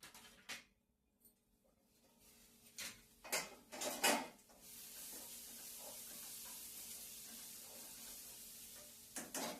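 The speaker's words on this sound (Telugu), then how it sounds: "మనకి ఉల్లిపాయ అయితే వేగింది" Onions frying in a pan give a faint low sizzle, preceded by a few scattered clatters and utensil knocks, then a steadier soft hiss that continues to the end, with no talking.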